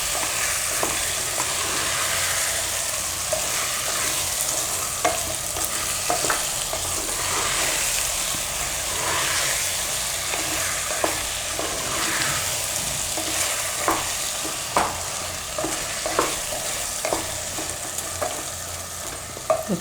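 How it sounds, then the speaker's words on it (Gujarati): Green pigeon peas and potatoes sizzle steadily in masala in a pan. A spoon scrapes and stirs through them at intervals, close and continuous. "તો થોડીક વાર મસાલામાં પકાવશું 2 મિનિટ માટે. વચ્ચે વચ્ચે હલાવતા રહે."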